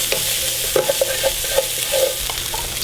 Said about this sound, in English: I'm gonna put about a dozen chopped cloves of garlic in here.